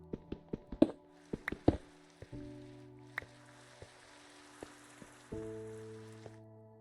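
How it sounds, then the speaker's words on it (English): Rain falls on a surface, mostly a soft steady patter with scattered close drops and taps, faint behind a steady hum and some game-like tones. "it's raining."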